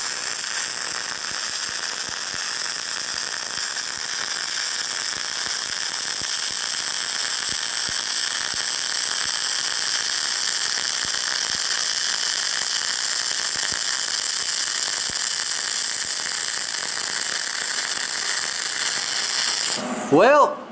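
Aluminum being MIG welded without a spool gun, a steady loud crackling, hissing arc that runs continuously for about twenty seconds before cutting off abruptly at the end.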